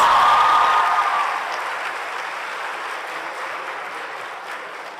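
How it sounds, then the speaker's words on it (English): Applause from a crowd at a Model United Nations opening ceremony, loud at first and then settling into a steady, softer patter of clapping. "Let's give them a round of applause."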